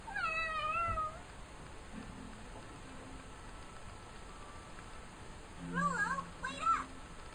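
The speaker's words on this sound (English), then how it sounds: "You hungry fat cat." Cat meowing in the video game Tales of Xillia 2: a burst of several wavering meows opens the clip, then a quiet stretch, and a second cluster of meows near the end, close and fairly clear over faint background hiss.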